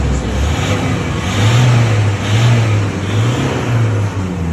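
A Toyota Hilux with a 2KD diesel engine, recently serviced for injector cleaning and power loss and still smoking slightly, revs up and down in repeated swells over a steady idle rumble.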